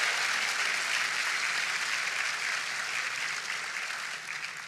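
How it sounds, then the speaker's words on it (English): Applause from an audience at a university homecoming event fills the space, dense and steady before gradually tapering toward the end. "Please give Ashton Thomas another round of applause."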